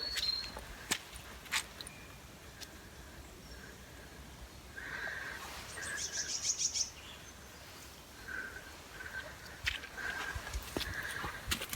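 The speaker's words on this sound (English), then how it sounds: "Oh, you can hear the birds." Birds call faintly in the distance with short, repeated chirps scattered over a quiet outdoor background, and a horse whinnies briefly.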